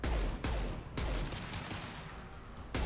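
Rapid bursts of gunfire from a Mass Effect 2 firefight, with sharp volleys at the start and end and steady shooting in between, loud and close.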